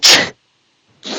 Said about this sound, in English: Sorry, sneezing.